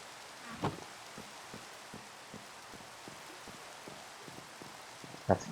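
Steady rain falling in Minecraft, a soft continuous patter of fairly quiet rainfall with a few brief louder bursts, heard alone.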